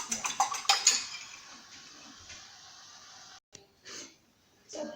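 An egg is whisked with a fork in a bowl for an egg wash on a rhubarb pie, producing a quick run of close, bright clinks for about a second, then faint scattered taps and near-silence.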